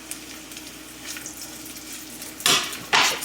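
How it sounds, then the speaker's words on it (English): Peppers sauté in a pan with a low, steady sizzle, then two loud bursts of hiss near the end as they hit the hot surface, along with faint utensil clinks. "I'm going to add these peppers to the pan so they can saute"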